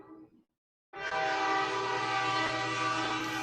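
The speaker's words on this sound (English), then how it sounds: "Loud train, man." A loud passing train roars in abruptly after a brief quiet gap, a steady, dense, close rumble with a sustained horn-like tone that holds to the end.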